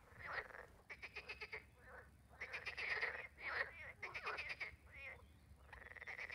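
Frogs in a golf course lake croak in dense rattling bursts, several calls overlapping in quick pulsing trains with short gaps between, fairly close and steady, no talking.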